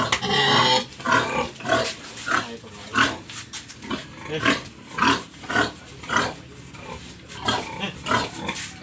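Mother sow pig grunting and squealing in a repeated series of loud, close, rough bursts with short pauses between them, no talking.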